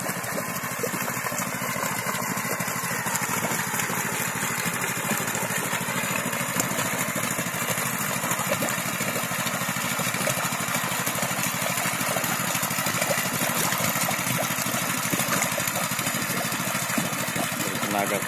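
A new super mini tractor with a 900cc engine runs steadily at a close idle, its continuous mechanical drone filling the whole stretch without pause, with a faint voice or two underneath.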